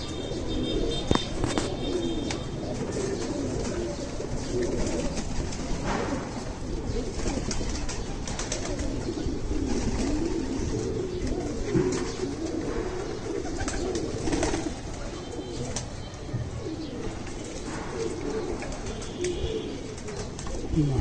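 Pigeons kept by a flying-pigeon fancier in Habiganj, Bangladesh, coo softly and repeatedly over a continuous low outdoor background, with occasional faint rustles and no speech.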